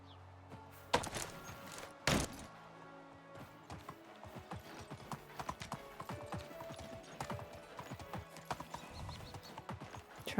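A donkey's hooves clip-clop along in the medieval village game Medieval Dynasty, a steady irregular patter of close hoof steps with a couple of louder knocks early on.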